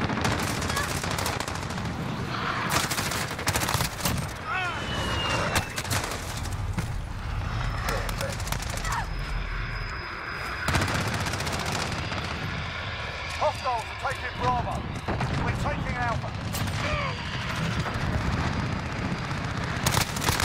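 M4 rifle fire in the video game Modern Warfare, rapid automatic bursts repeating throughout a loud firefight with explosions and impacts, and someone talking over the shooting.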